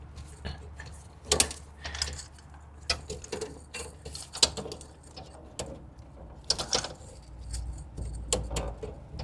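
A brake lever on a Craftsman DLT 2000 riding mower is worked back into its notch, giving repeated metallic clicks, rattles and clunks in uneven bursts, fairly close and moderately loud.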